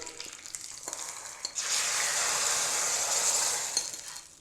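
Curry leaves dropped into hot oil for a pepper rasam tempering, a faint clink or two, then a bright hissing sizzle that swells and holds before fading.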